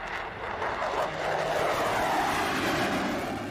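Pratt & Whitney F135 jet engine of an F-35 Lightning II fighter, a steady broadband roar that holds constant and loud throughout with no pauses or talk.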